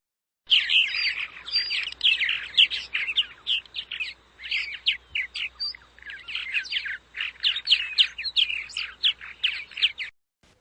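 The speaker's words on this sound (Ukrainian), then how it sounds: "Так співають ласточки." Swallows twitter in a dense, lively chatter of rapid high chirps and squeaks, continuous for several seconds with short gaps, close and clear, with no voices present.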